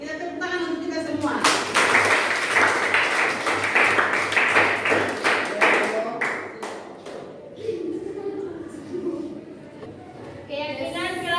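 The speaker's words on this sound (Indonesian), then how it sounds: "kita tepuk tangan untuk kita semua." A class of students claps together in a classroom, a burst of brisk clapping that tails off, with voices talking before and after.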